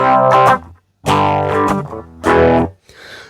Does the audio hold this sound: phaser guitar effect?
yes